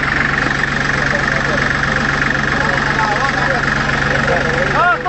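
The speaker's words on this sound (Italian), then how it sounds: "Spegni il motore." A car engine idles steadily near a railway station landslide site, a loud constant low rumble with a rhythmic knock under it, while people talk over it.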